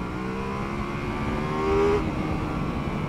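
Ducati Multistrada V4S motorcycle engine accelerating, a close, steady engine drone rising in pitch as the throttle opens, then settling back.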